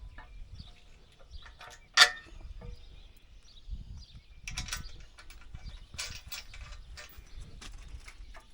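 Workers bolt up the rear tire mount on an Einbock Aerostar Fusion tineweeder outdoors, with ratcheting and metallic clanks, one sharp bang early on, and birds audible in the background.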